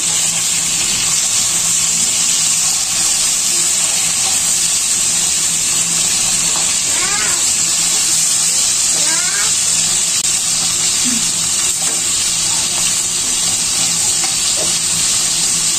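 Fish frying in a pan over a medium flame, making a loud, dense, steady sizzle like rushing water, with a few faint clinks and a brief vocal sound in the background.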